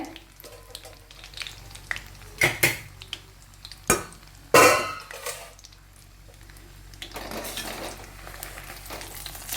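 Chillies and curry leaves fry in oil over a low flame for mango pickle, a soft steady sizzle broken by a few sharp clinks and scrapes of a utensil against the pan, with the frying swelling slightly toward the end.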